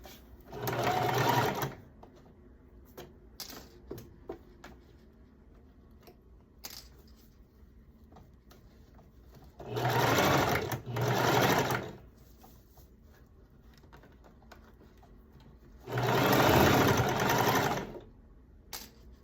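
A sewing machine joins two pinned skirt pieces in several loud, close runs of one to two seconds each, separated by pauses filled with small clicks and fabric shuffling.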